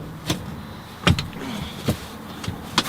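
Seat mechanism in a 2016 Ford Explorer cabin clicking and thudding as it folds, a few separate sharp clunks and latch clicks spaced over a few seconds, close by with a quiet interior background.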